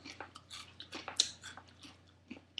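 Crunchy bean dish chewed up close, with irregular crisp crunches and soft mouth sounds in a quiet room, one sharper bite standing out midway.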